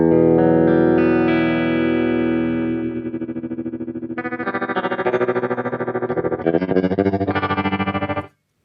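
Line 6 HX One guitar effects pedal pushed to extreme modulation settings, sustained guitar chords warbling through vibrato and tremolo, then pulsing rapidly louder before cutting off abruptly.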